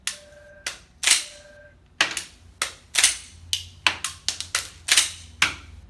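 A cap gun pistol fires during a Type 1 and 2 malfunction-clearing drill, with more than a dozen sharp, loud, close pops and snaps in irregular bursts, mixed with the clack of the slide being racked.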